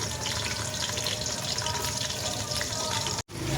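Big chunks of chopped onion drop into hot oil for a beef ojri curry, setting off a loud, dense, continuous frying hiss that stays close and steady until a brief break near the end.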